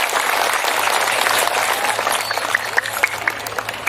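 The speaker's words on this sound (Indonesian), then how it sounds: "Tepuk tangan untuk teman-teman kita di Portugal." A crowd at an evening religious sermon gathering applauds, with dense clapping at first that thins into scattered, sharper individual claps toward the end, fairly close and moderately loud.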